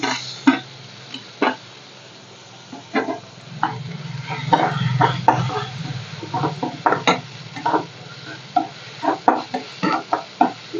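Chopped tomato goes into a frying chicken liver gravy with turmeric and is stirred, a spoon scraping and tapping against the pan in scattered clicks over a low, steady sizzle, with no one talking.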